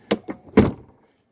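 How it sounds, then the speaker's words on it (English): Two light knocks followed by a solid, close thunk as a C5 Corvette door is pushed shut, then quiet. "Let me shut the door, see how."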